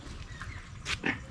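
Sows on a farm in Nueva Ecija give two short, close grunting oinks in quick succession over a steady background rumble.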